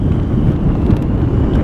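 Gusty wind buffets the microphone at a fishing reservoir, a steady close low rumble that holds loud for the whole moment with no voices over it.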